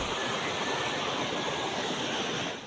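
Rushing floodwater from a river and canals that have overflowed into low-lying residential areas, a loud, steady broadband roar of churning water that runs continuously and close throughout, with no voices.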